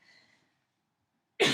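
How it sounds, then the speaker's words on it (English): One loud, abrupt cough bursts out near the end after a stretch of near silence, close to the listener. "I don't know why I'm coughing all of a sudden."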